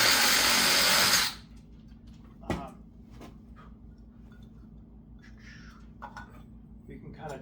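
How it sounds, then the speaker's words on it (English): A power drill bores through the cap of a tin can, a loud dense whir lasting about a second before cutting off abruptly, followed by a sharp metallic knock and scattered clinks over a low steady hum. "I just want to drill this cap out so I can sink this thermometer through"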